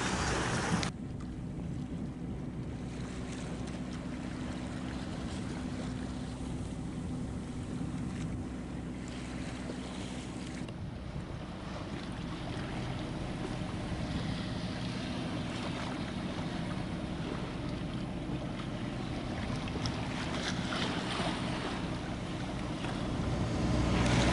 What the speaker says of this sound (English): Finally, I started the motor at 2:30, and well, we're still motoring.